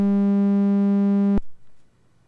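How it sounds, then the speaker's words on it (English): A low sine tone run through a rectifier distortion effect comes out buzzy and harmonically rich, holding steadily and loudly before stopping abruptly, with only a faint low tail afterward. "Now with the Rectifier,"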